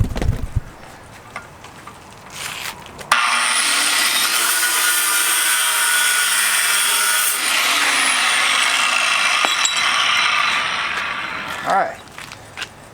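An angle grinder with a cutoff wheel bites into metal in one loud, steady high-pitched cut lasting about nine seconds, with lighter handling noises before it and as it winds down.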